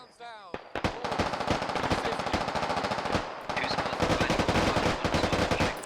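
Sustained automatic weapon fire in the Squad tactical shooter, rapid bursts of machine-gun rounds cracking almost continuously with a few brief pauses, loud and close, with faint voice chatter underneath.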